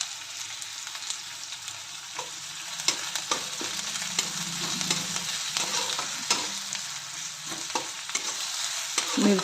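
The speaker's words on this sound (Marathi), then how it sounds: "मिरचीचं कूट आणि लसूण घातलेलं आहे, 2 मिनटं परतून झालेलं आहे" Crushed green chili and garlic sautéing in hot oil with onion, a steady sizzle with scraping stir strokes at irregular intervals, close and continuous with no talking.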